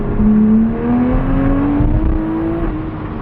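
A 2020 Toyota Supra fitted with a bigger turbo accelerating hard in third gear, the engine note climbing steadily in pitch as a loud, close drone with road and wind roar from inside the car.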